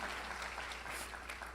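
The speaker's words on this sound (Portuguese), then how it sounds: "Você pode dar mais uma salva de palmas a Jesus, que Ele ressuscitou hoje." Applause in a church service, dense steady clapping from a congregation, fairly faint and continuous throughout the short burst.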